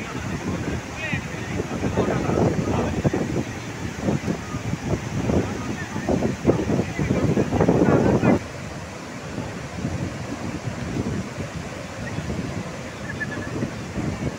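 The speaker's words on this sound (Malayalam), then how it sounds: "80 അടി ഉയരത്തിലാണ് ഈ ഒരു വെള്ളച്ചാട്ടം താഴോട്ട് പതിക്കുന്നത്" Steady roar of the Athirappilly waterfall dropping 80 feet toward the Chalakudy river, a dense continuous wash of water that swells louder in the first half, then settles into an even, constant rush.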